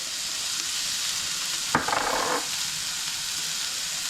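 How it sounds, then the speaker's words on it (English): Mushrooms, tomatoes, onion and green pepper hit a hot pan, bursting into a loud close sizzle for about half a second that then fades back to a low steady frying hiss. "we're going to throw in our mushrooms and tomatoes, an onion and green pepper that we've already cut"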